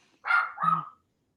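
A dog gives two quick, sharp barks close by, indoors, then quiet follows.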